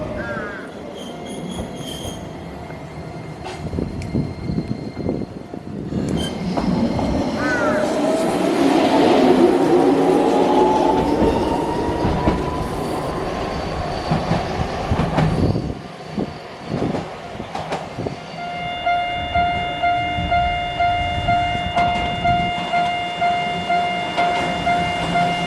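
A monorail train rumbles into a station in Osaka and slows, wheels squealing with a rising whine, then settles with hissing, beeping chimes and clatter nearby.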